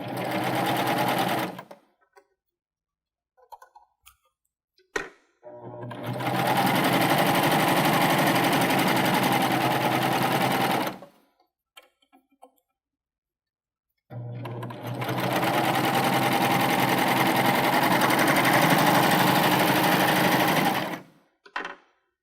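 A Baby Lock Euphoria cover stitch machine sews a triple cover stitch on brushed polyester in three loud, steady bursts of several seconds each, separated by short pauses with faint handling clicks.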